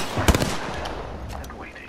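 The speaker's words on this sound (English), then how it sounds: "Getting shot at." Gunfire in the video game Apex Legends, a short burst of sharp shots over steady game ambience, with a voice speaking briefly.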